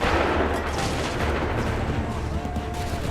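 A musket volley crackles through a battle scene in the video game Assassin's Creed 3, with dense, overlapping loud gunfire rolling continuously under background noise.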